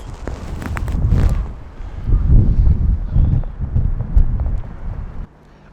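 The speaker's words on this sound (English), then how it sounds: "It's gonna be so cold and windy." Wind buffets the microphone in loud, uneven gusts of low rumbling noise, dropping suddenly to near quiet at the end.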